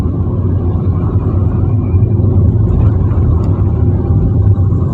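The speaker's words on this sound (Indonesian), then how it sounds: "Ke gigi 2, lihat mesin sudah meraung" A car engine roars steadily and loudly in second gear while accelerating, a dense continuous low rumble that holds throughout with no talk.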